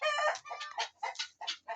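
Hens cluck in a chicken yard, a quick series of six or seven close, bright clucks in an uneven rhythm with near silence between them.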